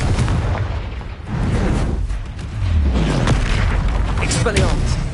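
Booming blasts of the Confringo blasting curse in a Harry Potter video game, several loud explosions rolling one after another amid game noise, with a voice calling out spells over them.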